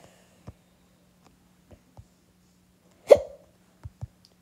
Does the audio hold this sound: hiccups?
yes